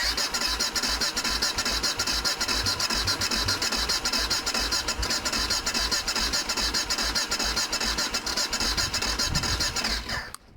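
A BMW F650 Funduro or Kawasaki ZL600 Eliminator motorcycle with a suspected choke fault cranks on the starter, a rapid, loud, rhythmic whirring that runs nonstop for about ten seconds before cutting off, without catching.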